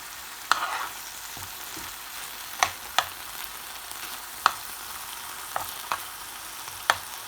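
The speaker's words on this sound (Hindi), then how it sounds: "कीमा हमारा पक रहा है" Chicken mince fries in a pan with a steady low sizzle, broken by several sharp spoon scrapes and taps against the pan at irregular intervals, close and alone without speech.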